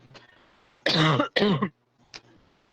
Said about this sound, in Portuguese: só não ligue pra essa tosse brava que eu tô